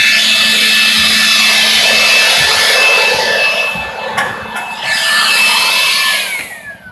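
A saw cuts through wooden roof rafters with a loud, steady, close rasping roar that holds for several seconds, easing briefly near the middle before it winds down.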